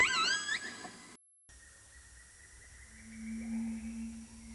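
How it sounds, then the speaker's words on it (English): A killer whale pod calls underwater in rising and falling whistles and tonal cries, faint and intermittent, with a brief gap of silence and a long, steady tone near the end. "Each killer whale pod sings songs in its own dialect to identify kinship."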